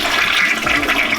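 A loud toilet flush rushes and gurgles steadily from start to end, close up, with no talking.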